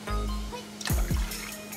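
Water poured into a pan over medium heat while cooking a low-carb meal, giving a brief close splash and trickle that settles after about a second, with no talking.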